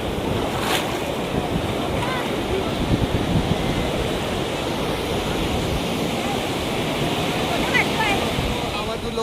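Sea waves wash in at Diveagar beach in Konkan, a continuous rushing surf roar with wind buffeting the microphone and faint voices underneath.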